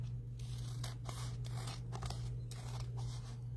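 Scissors snip through a filled bird pocket in a short series of crisp cuts and rustles, quiet and close over a steady low hum.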